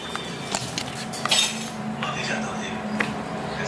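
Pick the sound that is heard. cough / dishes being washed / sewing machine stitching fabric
dishes being washed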